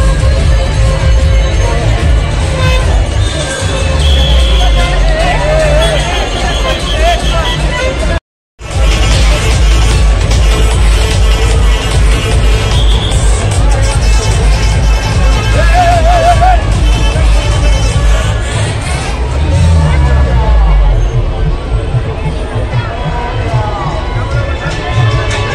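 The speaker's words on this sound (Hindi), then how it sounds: "काफी संख्या में भीड़ यहाँ पे भी है उपस्थित।" Dense, loud roar of a huge crowd at Ganpati Visarjan near Girgaon Chowpatty in Mumbai, with continuous babble, shouting and occasional cheering, a brief dropout partway through, and someone talking over it.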